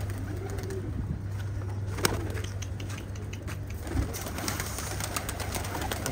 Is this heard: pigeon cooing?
yes